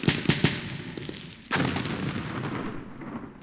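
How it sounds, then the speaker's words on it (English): Artillery in a Middle East war strategy game firing on a police fortress: a few sharp booms early on, then a heavier blast followed by a long rumbling roll that slowly fades. "That's our artillery firing at the police fortress."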